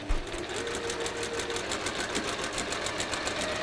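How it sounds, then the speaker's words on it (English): A sewing machine stitches a straight seam across the corner of a fabric square, its needle running in a fast, even mechanical chatter that stays close and steady throughout with no voices. "And we're going to sew on the line."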